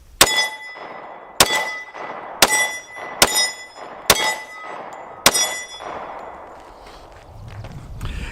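Six sharp, loud shots from a Glock 36 .45 ACP handgun, fired one at a time at irregular intervals of roughly a second, each a crisp crack with a metallic ring and short decay.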